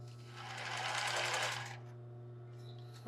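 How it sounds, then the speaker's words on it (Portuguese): A sewing machine stitches a lace bra in a short, close burst of rapid whirring of about a second and a half, then falls back to a quiet steady motor hum. "Vou costurar aqui para esse lado."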